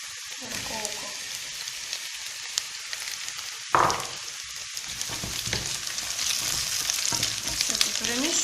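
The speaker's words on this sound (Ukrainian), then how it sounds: "Так, цибулька наша обжарюється." Onions fry in a pan with a dense, steady sizzle that grows busier and louder after a sharp clatter midway, with faint stirring scrapes and no one talking.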